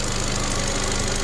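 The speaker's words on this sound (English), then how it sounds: "Sounds a nice sweet little engine, to be fair." A small Ford Fiesta car engine runs steadily with a dense, even mechanical drone and slight knocking texture, close and continuous with no talking.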